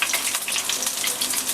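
Fish cake pan-frying in oil in a wok, a dense, loud, continuous sizzle with rapid spitting crackles, left untouched and heard alone.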